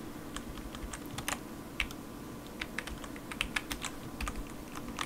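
Quick, irregular keystrokes clatter on a computer keyboard in a quiet room, with no talking.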